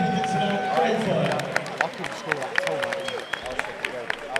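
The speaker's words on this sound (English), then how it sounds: "Ladies and gentlemen, first round of applause for both of those fighters." At a white-collar boxing event, the audience gives scattered, uneven applause for both fighters after the bout. Sharp claps build midway and mix with crowd babble and a voice talking over them.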